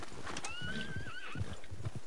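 A gypsy cob horse in Red Dead gives a short, rising then wavering whinny over a low background, close and clear.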